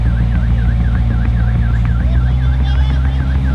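A car alarm sounding close and loud, a rapid, repeating warbling tone cycling evenly throughout over a constant low engine-like drone.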